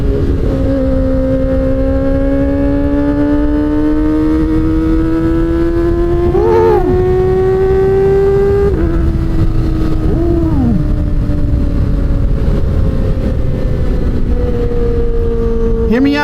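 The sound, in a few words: motorcycle exhaust revving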